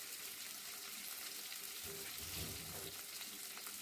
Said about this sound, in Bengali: এগুলোকে আমি হালকা একটু ভেজে নেব।